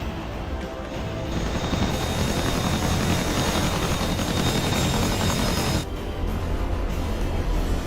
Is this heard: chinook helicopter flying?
yes